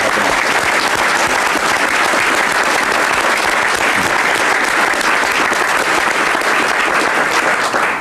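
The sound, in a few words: audience applause for the governor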